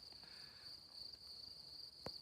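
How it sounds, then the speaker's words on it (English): Crickets chirp in a steady, high, continuous trill at a quiet roadside stop in Corsica, with a faint low background and one brief sharp knock near the end. "it's really peaceful here. It's just crickets"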